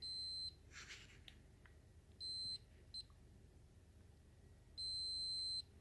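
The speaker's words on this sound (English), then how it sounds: "if you get the beep on every single one of these spots, then we know that there's no dead spots" A continuity tester beeping as its probes touch the armature lands of a Harley Davidson 32E generator being rebuilt: three long high steady tones and one short blip, separated by quiet handling noises.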